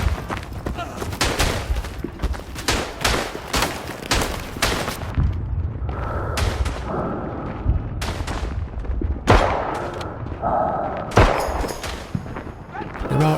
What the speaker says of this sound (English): There are artillery attacks, smoke screens, mortars and the dreaded gas attacks.